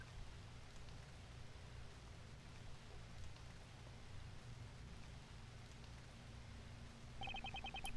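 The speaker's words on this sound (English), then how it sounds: "It wasn't raining like it is now when I made the drop-off." Rain in the video game Ace Attorney Investigations hisses faintly and evenly over a low steady hum, with a short electronic chime rising near the end.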